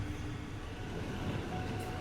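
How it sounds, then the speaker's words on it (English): A train in Bangkok rumbles steadily as it turns off the main line near Phetchaburi Road onto the eastern line, a continuous close, low rolling drone with no voices. "This is where our train is turning off the main line and heading to the eastern line."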